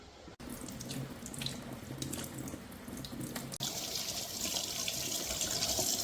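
Water runs steadily from a kitchen tap while guava fruit is washed under it, a continuous close splashing stream that swells louder and brighter partway through as the flow shifts.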